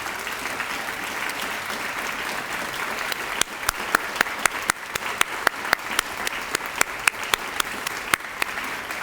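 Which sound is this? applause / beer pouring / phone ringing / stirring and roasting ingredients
applause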